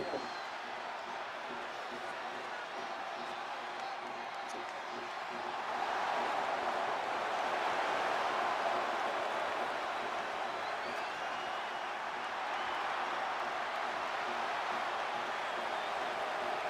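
Roaring arena crowd in the WWE 2K25 wrestling game, a dense steady wall of cheering that swells louder midway through and stays sustained to the end.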